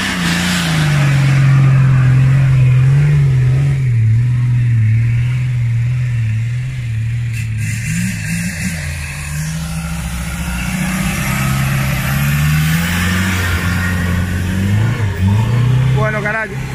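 An off-road vehicle's engine revs hard as it climbs a steep hill on an extreme off-road route, the loud low drone rising and falling continuously with people talking over it.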